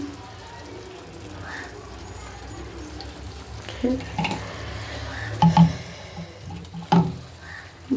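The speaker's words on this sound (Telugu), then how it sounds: "నేను ఒక 2 టేబుల్ స్పూన్స్ నెయ్యి వేస్తున్నాను" Ghee spooned over coconut rice in a pan gives a soft, steady sizzle, with a few louder scraping clinks from a spoon against the pan near the end.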